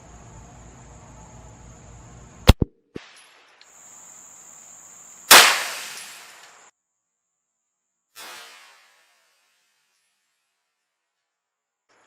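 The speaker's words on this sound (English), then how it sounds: "I'm going to shoot dead for the center of that tread there." A 9mm pistol is fired at the center of a tire's tread outdoors: a sharp, loud crack, then a second heavy burst that trails into a hiss of escaping air, with a faint thump afterward and near-silence between.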